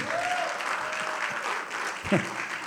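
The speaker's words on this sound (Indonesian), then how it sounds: "Tepuk tangan yang gak seimbang dengan jerih lelah" A church congregation applauds in a steady, moderate wash of clapping, with a brief faint voice rising near the end.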